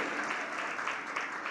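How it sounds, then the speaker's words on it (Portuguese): A church congregation applauds, a soft, steady patter of many hands clapping heard at a distance for a brief moment. "Você pode aplaudir ao Senhor por isso?"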